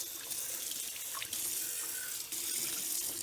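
Citri Star juicer pieces are rinsed under a running sink tap, giving a steady, close rush of water with slight changes as the stream hits the parts.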